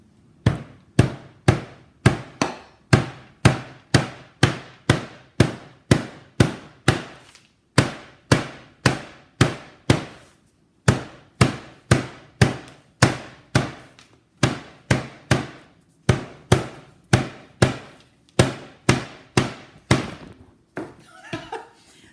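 Hammer blows striking repeatedly to break a piece off, dozens of sharp loud close impacts in a steady rhythm, roughly one or two per second, with short pauses between bursts.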